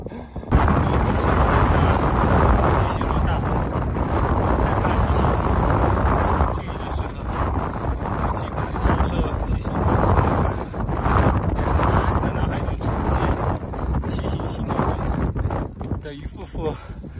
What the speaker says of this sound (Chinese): 我一度那么讨厌你，风，但我现在再也不怕你